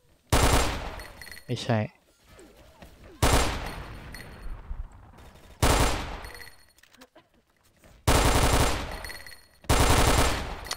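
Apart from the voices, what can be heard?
AUG rifle gunfire, from video game XSHOT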